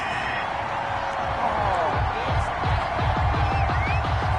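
Stadium crowd in the Madden 21 football video game roars and boos steadily after a penalty flag on third down, a dense, continuous wall of noise with rhythmic low thumps underneath.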